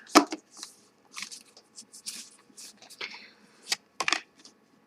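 Quick, crisp papery riffles and flicks of tarot cards being shuffled, in short irregular bursts with brief pauses between, close by and fairly soft.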